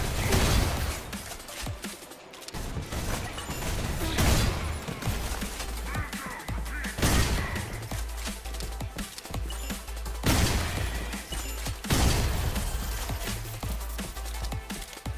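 Shotgun fire in a first-person video game: a series of heavy booming blasts roughly every two to three seconds, layered with crashing impacts and dense gunfire texture, loud and close throughout.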